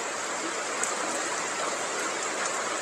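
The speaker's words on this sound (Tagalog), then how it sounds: "Umuulan. Abutan tayo ng ulan." Steady broadband hiss of rain falling, constant and fairly close, with no breaks and no voices.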